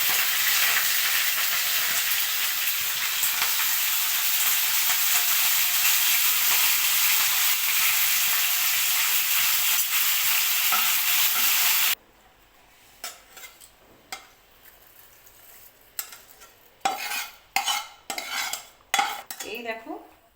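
Bhringraj leaves fry in mustard oil with a loud, steady sizzling hiss, then the frying stops and a metal utensil clatters and scrapes against a pan in sharp irregular knocks.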